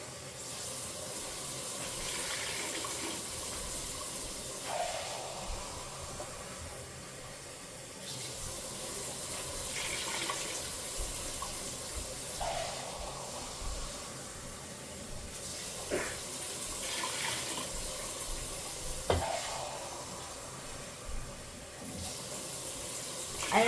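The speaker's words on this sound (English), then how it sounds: "You're gonna add water in there." Tap water runs into a soup pot for turkey soup in a home kitchen, a steady, close hissing splash lasting over twenty seconds, with brief shifts in flow as the pot fills and no talking.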